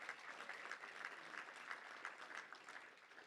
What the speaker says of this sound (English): Let's give a round of applause to everybody who's been a big part of what we do.